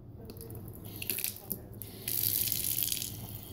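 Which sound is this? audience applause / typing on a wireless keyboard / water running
water running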